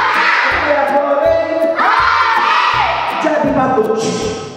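A group of kindergarten children shouts and cheers together in loud, rising bursts of excited voices, close and filling the whole stretch.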